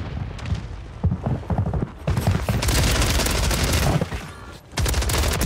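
Dual WSP Stinger submachine guns fired akimbo in Warzone, loud rapid bursts of automatic fire in several volleys with brief pauses between them.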